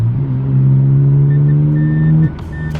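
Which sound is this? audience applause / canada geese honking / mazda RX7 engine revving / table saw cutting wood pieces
mazda RX7 engine revving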